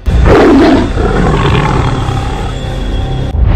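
A Royal Bengal tiger in the Sundarbans lets out a loud, close roar, then trails into a lower rumbling growl that continues for a few seconds.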